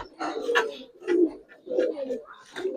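Giribaz pigeons coo in a run of soft, throaty, rolling calls, several close phrases repeating one after another at moderate loudness.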